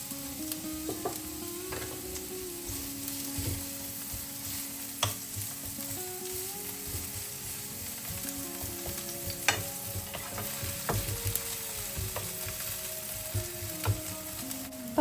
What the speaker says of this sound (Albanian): Do vazhdojmë ta skuqim qepën me pak vaj.